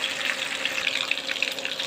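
Fish frying in a pan on a home stove, a dense, continuous hiss and sputter of oil, close and fairly loud, steady across the short stretch with no one talking.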